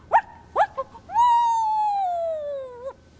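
A medium-sized dog gives a few short yips, then a long, drawn-out, tonal howl that slowly falls in pitch before stopping.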